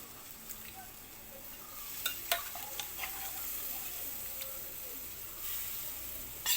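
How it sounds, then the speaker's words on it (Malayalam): Pork pieces dropped into a pan for pork curry, giving a soft steady sizzle with a few sharp clinks and knocks from stirring, quiet and close, no talk. "ഇനി നമുക്ക് ഇറച്ചി ഇട്ട് കൊടുക്കാം."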